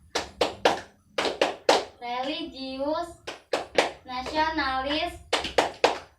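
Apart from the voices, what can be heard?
group clapping the PPK clap rhythm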